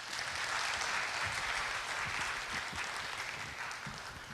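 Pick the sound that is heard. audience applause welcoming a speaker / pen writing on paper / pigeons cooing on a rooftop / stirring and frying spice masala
audience applause welcoming a speaker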